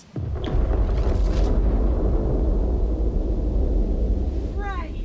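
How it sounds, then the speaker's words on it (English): A big, deep boom erupts at the start of a Tiny Tina's Wonderlands fantasy game scene, then lingers as a loud, rumbling low roar for several seconds, with a few high squealing cries near the end. "a great big booming sound rings out"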